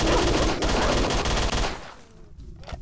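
Rifle fired from the hip in S.T.A.L.K.E.R.: Shadow of Chernobyl, a loud rapid burst of automatic shots for nearly two seconds, then a quieter tail with faint clicks and rattles.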